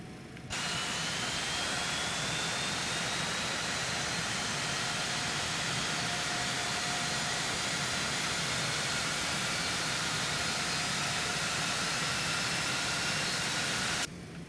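Jet engines on a Citation X in the X-Plane 12 flight simulator spool up as a steady, dense, continuous roar with a faint rising whine, loud and unbroken for the whole stretch, with no talking.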